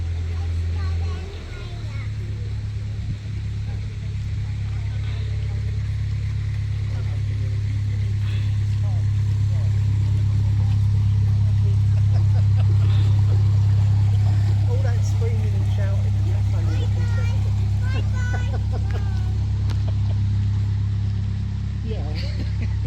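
A boat leaves a canal lock on the Wey Navigation, its engine a low, steady throbbing drone that swells in the middle and stays close, with someone talking over it.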